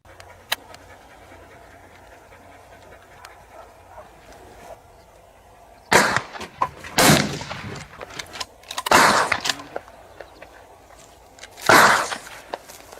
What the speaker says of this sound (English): the hunters ignite firecrackers, creating sharp explosive bursts that force the wild boars out of the thickets